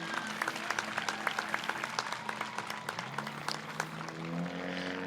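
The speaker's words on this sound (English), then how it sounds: "Let's give them a big round of applause" A graduation audience at Perris Lake High School's 2021 ceremony applauds the teachers, with sustained crowd clapping and distinct individual claps over a low background hum for several seconds.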